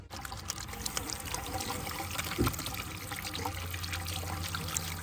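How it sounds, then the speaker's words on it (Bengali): Water pours and trickles steadily from a tap as hands are washed outdoors at a village farm, a continuous close splashing stream with a brief louder gush midway. "হাতটা ধুয়ে নেই"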